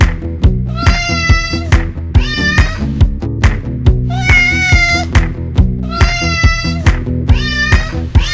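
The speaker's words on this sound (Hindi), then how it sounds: "बिल्ली का बच्चा, बिल्ली का बच्चा।" A kitten meows repeatedly in loud, close, drawn-out cries, several calls in a row with short pauses between them, with faint thumps underneath.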